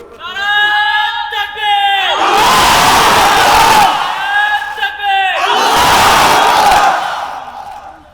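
At a Bangla religious sermon gathering, a single voice gives a drawn-out lead call, and a large crowd answers with a loud, massed shout. The call and the roaring response repeat twice, both close and powerful.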